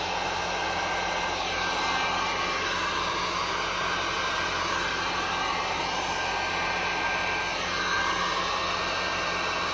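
A heat gun blows hot air over a handmade trinket tray. It gives a steady, even roaring hiss that stays close and constant throughout, with no voices.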